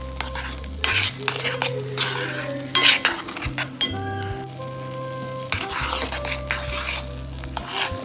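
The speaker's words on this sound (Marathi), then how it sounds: "थोडा वेळ असं व्यवस्थित परतू घ्यायचं आहे" A spoon stirs and scrapes a thick date mixture in a pan, sautéing it over low heat, with soft sizzling, repeated utensil scrapes and occasional clinks against the metal, close and fairly quiet.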